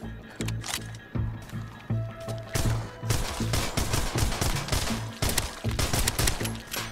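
Repeated gunshots in the VR zombie shooter Arizona Sunshine, sharp cracks fired in uneven bursts over a low background hum, with fairly dense shooting through the second half.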